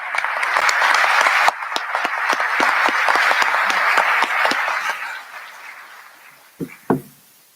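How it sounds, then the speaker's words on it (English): Audience applause for coding sprint participants at a conference, dense sustained clapping with sharp individual claps standing out, fading after about five seconds, followed by a couple of closer thumps. "Let's give them a round of applause."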